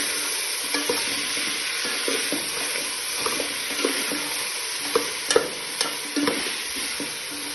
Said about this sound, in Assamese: অকণমান দেৰি ফ্ৰাই কৰি ল'ম